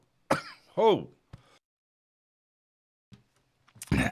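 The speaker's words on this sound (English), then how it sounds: "Out of nowhere, a cough." A single sharp cough-like throat sound bursts out in near silence, followed by a few small clicks and another short rough burst at the end.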